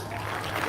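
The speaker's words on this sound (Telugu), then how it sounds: "Wow, claps." Brief burst of steady applause from an audience at a spoken lecture on personality building, a dense, even patter of many hands clapping throughout.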